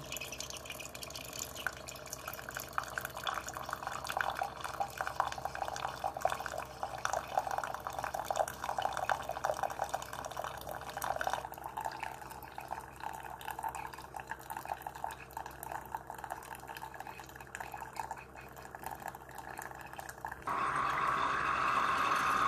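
A single-serve coffee maker brewing, with steady dripping and gurgling water running continuously, growing louder and hissier near the end.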